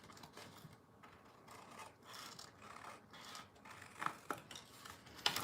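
Quiet rasping and rubbing of paper being cut for a holiday gift box, with soft irregular scraping strokes and a few sharper snips and ticks near the end.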